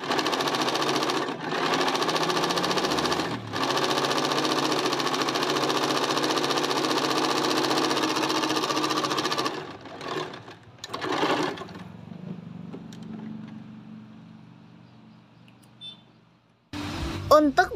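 A sewing machine stitches around a trouser hem in a steady, loud, continuous whir for about ten seconds, then stops and starts in shorter bursts before falling quiet, with a brief voice at the end.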